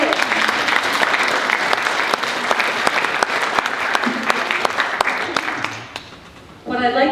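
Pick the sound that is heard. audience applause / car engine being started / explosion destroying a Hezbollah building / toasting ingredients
audience applause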